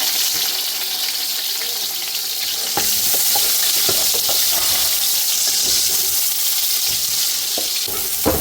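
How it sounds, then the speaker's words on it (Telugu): Sliced onions and green chillies for biryani fry loudly in hot oil, giving a continuous close-up sizzle with intermittent stirring clatters and scrapes. "ఈ ఆనియన్స్ చక్కగా గోల్డెన్ బ్రౌన్ కలర్ వచ్చే వరకు ఫ్రై చేసుకోవాలి."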